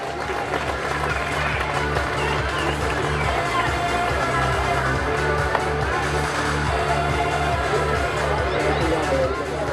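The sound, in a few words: round of applause at prize giving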